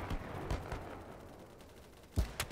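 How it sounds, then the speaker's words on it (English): Gunshots from the video game BattleBit Remastered: a few sharp reports spaced across a quiet stretch, a faint one early and two louder cracks close together near the end, no talking. "I just shot him in the head."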